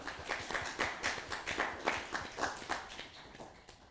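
An audience at an election panel claps in welcome, a fairly faint burst of steady, rhythmic applause from a small crowd that thins out after about three seconds.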